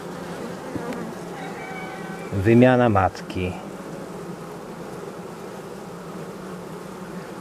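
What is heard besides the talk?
honeybees buzzing at hive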